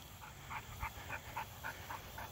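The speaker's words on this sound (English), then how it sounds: "Pretty quiet dog." An ailing male dog pants in a quick, even rhythm of soft breaths with faint whimpering mixed in, fairly close but quiet, with no voices.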